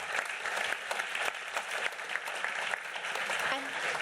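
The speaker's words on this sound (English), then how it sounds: "please give a warm round of applause to the panel" Audience at the OECD Global Forum on Development closing session applauds the panel with sustained, dense clapping that holds steady at moderate loudness for the whole stretch.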